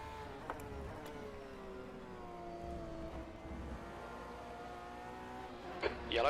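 An LMP2 prototype race car in the Le Mans Virtual game at Spa drones past with a steady engine tone that shifts pitch as it goes by, then rises in a brief surge at the end.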